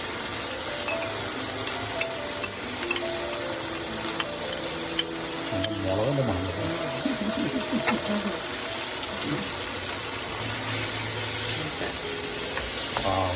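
A mix of tomato ketchup, chilli sauce and soy sauce poured into frying idli manchurian in a pan, giving a steady sizzle with stirring and spatula clicks, plus a faint voice in the background.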